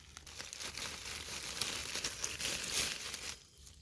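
An umbrella polypore mushroom being picked by cutting its stem, giving close, continuous crinkling and tearing rustles for a few seconds, alone without talk.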